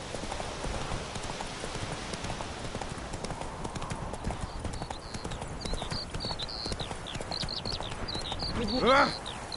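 A horse gallops in The Witcher video game, its hooves beating a quick, continuous clip-clop under game voices, with a brief whinny near the end.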